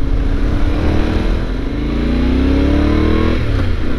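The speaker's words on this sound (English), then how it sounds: "Exhaust sounds so good." A loud Yamaha Tenere 700 motorcycle engine revs up close, its exhaust note climbing steadily in pitch as it accelerates, then dropping back.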